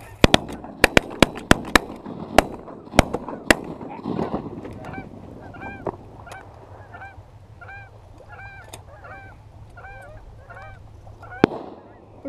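Geese honk repeatedly in a flock during a goose hunt, a rapid run of distinct calls after several sharp, loud shotgun blasts, with one more shot near the end and faint voices in the background.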